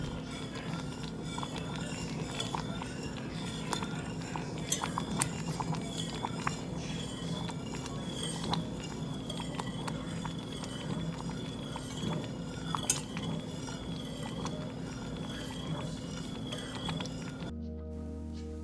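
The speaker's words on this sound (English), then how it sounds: "I like mixing up the glaze because I like the way it sounds" Blueberry glaze being stirred in a pot, a steady run of clinks and light scrapes of utensil against cookware, fairly close and continuous, with a constant low hum beneath it.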